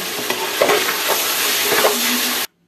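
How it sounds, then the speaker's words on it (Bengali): A spoon stirs a vegetarian dish with cumin in a hot pan, scraping and shuffling over a steady sizzle, close and loud, ending abruptly in silence. "এবার নেড়ে চেড়ে ভালো করে মিশিয়ে নিব।"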